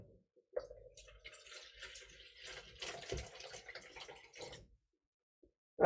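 Filtered water pours from a jug into a container in a home kitchen, a close trickling splash that runs for a few seconds, then stops, with a brief knock at the end.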